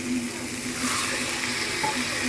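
Tamarind water poured into a pan of hot fish gravy sets off a steady, loud sizzle and hiss that holds for about two seconds, with no voices.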